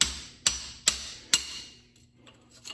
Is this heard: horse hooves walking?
no